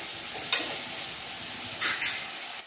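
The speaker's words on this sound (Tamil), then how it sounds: "வெங்காய தக்காளி எல்லாம் வதங்கிடுச்சு." Onions and tomatoes fry in a pan, stirred with a few bursts of scraping under a steady soft sizzle, close and moderately quiet with no talk.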